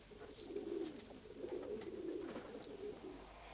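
Messenger pigeon cooing softly in a low, repeated murmur, faint and close over a quiet background hiss.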